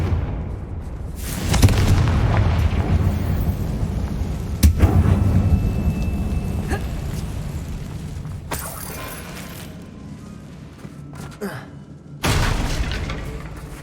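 Confringo spell blasts in Hogwarts Legacy, several heavy booming impacts with crackling debris tails spaced across a game soundscape, with a character speaking between them.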